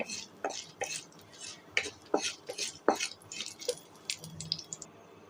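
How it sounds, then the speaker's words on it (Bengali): Dried red chillies fry in a pan on a stove with scattered sharp crackles and pops and a few utensil clicks against the pan. The sounds are close but fairly quiet and irregular. "আমি এখানে কিছু শুকনো মরিচ ভেজে নিচ্ছি"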